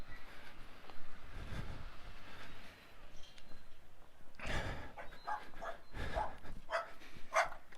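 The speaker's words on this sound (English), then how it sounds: "Oh, there's a dog in a crate in that truck." A dog in a crate in a truck gives a few short barks and yips, some distance away, over constant low rumbling background noise.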